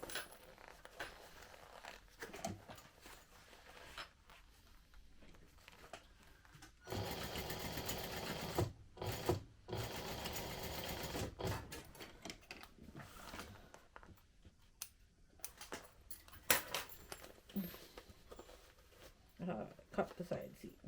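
A sewing machine stitches the side seam of a crossbody bag in several bursts of rapid whirring, stopping and starting between stretches of nearby talk and handling noises.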